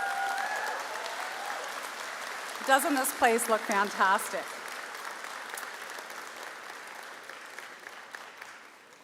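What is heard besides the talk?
applause for Cape Breton University teams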